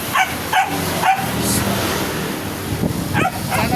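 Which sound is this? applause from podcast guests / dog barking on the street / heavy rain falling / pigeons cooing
dog barking on the street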